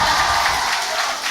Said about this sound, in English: Huge cheer from the crowd here